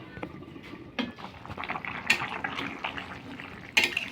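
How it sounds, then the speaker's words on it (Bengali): Bengali fish curry of lata fish with bottle-gourd stems simmers under a lid, giving faint irregular bubbling and a few sharp clicks and taps nearby. "3 মিনিট ঢাকনা দিয়ে ফুটিয়ে নেব।"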